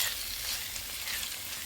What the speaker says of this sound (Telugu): అల్లం వెల్లుల్లి పేస్ట్ చక్కగా వేగింది